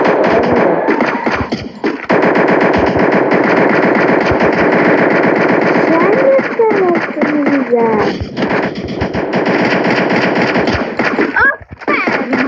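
Rapid bursts of automatic gunfire from a shooter video game rattle loud and nearly continuous, with short gaps and ricochet-like whines in the middle, while voices talk over the action.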